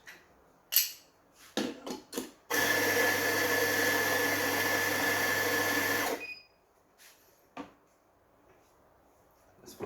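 A VBM Domobar Super Electronic espresso machine flushes water through its group head in one steady hiss lasting about four seconds, near and fairly loud, with a few clicks and knocks before and after.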